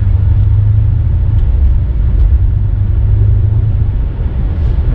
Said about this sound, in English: The car is taking off by itself this time